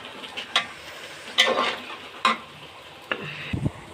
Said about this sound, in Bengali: পেঁয়াজটা বাদামি কালার হয়ে আসছে